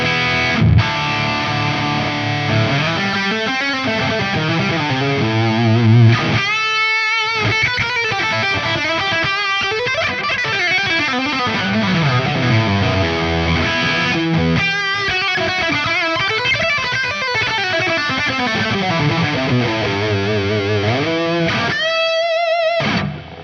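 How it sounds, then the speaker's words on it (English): Heavily distorted electric guitar riffing through an IK Multimedia Tonex model of a Mesa/Boogie Triple Rectifier amp with a Dirty Tree stomp in front, thick high-gain chugs and sustained chords played continuously and loud, with no talk. "Now we're on to the triple rectifier. This has the Dirty Tree stomp in front of it."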